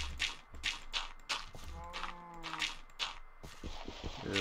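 Cows in the Minecraft video game moo in short, repeated calls, with one longer, drawn-out moo near the middle, heard clearly over soft game sounds.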